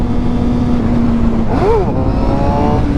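A motorcycle pulls away hard for a second-gear wheelie, its engine note droning steadily and then rising sharply in a quick rev sweep, loud and close over wind and road noise.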